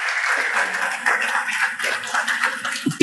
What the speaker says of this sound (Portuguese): salva de palmas para eles também